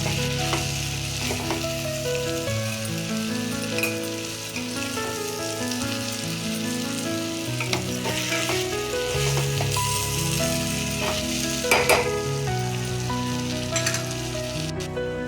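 Chili masala sizzles and fries in a pan for a vegetable sambar while a spoon stirs it now and then, giving a steady, close crackle with occasional scraping.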